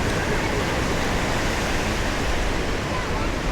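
Ocean waves wash onto a beach in a continuous broad roar of surf, loud and close, with no break in the rushing sound.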